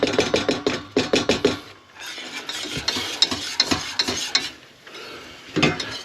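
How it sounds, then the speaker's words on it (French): A spoon stirs flour cooking in butter in a pan in a camper van kitchen, giving rapid rhythmic scraping strokes and a steady close sizzle and frying hiss throughout. "il faut arriver à faire cuire la farine là dans le beurre"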